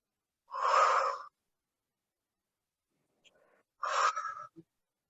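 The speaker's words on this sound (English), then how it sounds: "Breathing in." During a body sculpt workout, someone takes two deep, audible breaths close to the mic, each lasting under a second and separated by a few seconds of silence.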